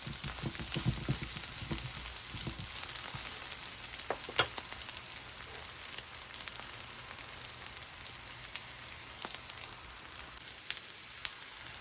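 Dried fish frying in hot oil as an ingredient for Jaffna-style maas sambal, giving a steady, close sizzle with scattered sharp crackles and pops throughout, with no voices.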